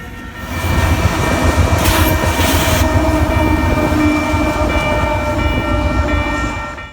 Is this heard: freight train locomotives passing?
yes